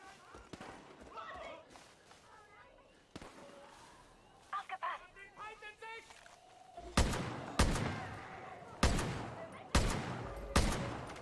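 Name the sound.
gunfire in video game Far Cry New Dawn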